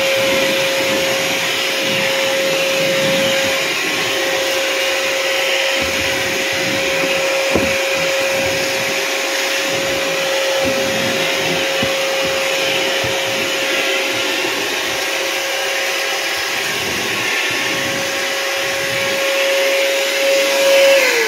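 A Ryobi 40V cordless shop vacuum runs steadily and close up, its motor drone and a constant whine holding for about twenty seconds with no talk.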